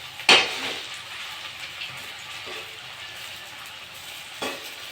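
Moringa leaf pakoras fry in hot oil with a soft, steady sizzle as they are turned, and a sharp clink of the utensil near the start, close by with no talking.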